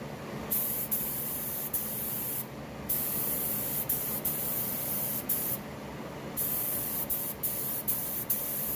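Aerosol spray paint hissing onto motorcycle foot pegs in short and long bursts with brief pauses between, loud and close, no voices.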